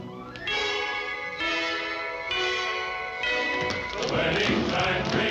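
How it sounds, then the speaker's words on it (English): Bright bell chimes ring out for a wedding in a 1943 wartime musical, several sustained struck tones following one another in a slow sequence, then washed under fuller music near the end. "The wedding chimes ring out for Mandy, Mandy, Mandy and me."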